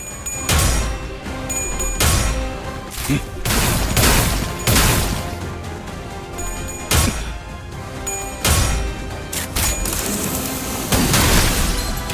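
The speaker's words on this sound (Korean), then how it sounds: "사격 개시." A gunfire volley in the video game Limbus Company: repeated loud bursts of shots and heavy impacts crash in waves over dense mechanical clatter, with no voices present.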